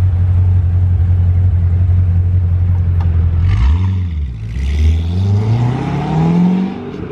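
Corvette Z06 engine, a loud steady low drone that dips and then climbs as the revs rise and fall in a sweeping pass, close and continuous.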